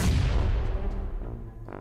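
Gunfire in the mobile battle royale game PUBG Mobile: a heavy, booming shot rings out at the start and decays over about two seconds, with a faint crackle of another distant shot near the end.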